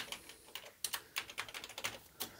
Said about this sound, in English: Let's test the whole keyboard